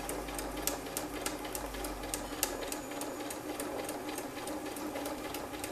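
A sewing machine stitches a spiral quilt with a fast, steady, rhythmic needle clatter. The sound is close and continuous, with no voices.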